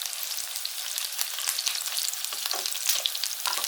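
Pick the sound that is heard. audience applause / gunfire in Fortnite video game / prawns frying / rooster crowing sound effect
prawns frying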